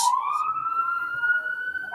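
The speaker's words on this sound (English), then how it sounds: "I know the New York Sirens when I hear them." A New York police siren wails in a steady, rising and falling tone, fairly loud and continuous, with no talk over it.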